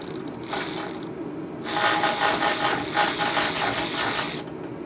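An electric ratchet runs the transmission pan bolts on a 1959 Ford F100, with a brief buzzing burst and then a longer steady whirring rattle at close range, with no talk.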